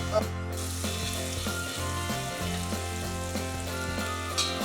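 Chopped celery sizzles in a hot pot with onion for a chicken and corn chowder, a continuous close frying hiss under a low steady hum, with a few faint clinks and scrapes.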